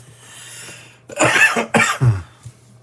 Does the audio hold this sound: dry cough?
yes